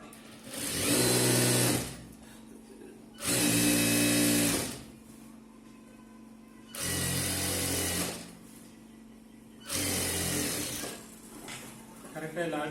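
A sewing machine stitches a chudithar in four loud bursts of fast whirring, each a couple of seconds long, separated by quiet pauses where fabric is repositioned.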